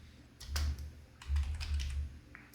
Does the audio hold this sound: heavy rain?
no